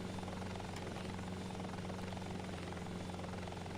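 A helicopter in the Hostile Waters video game whirs with steady rotor thumping and an engine hum, constant and fairly close, with no talking over it.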